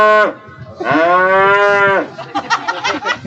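Heifers in a cattle show ring, Angus or Speckle Park, moo loudly and close by: a short call, then a long drawn-out bellow, followed by a few broken grunting lows.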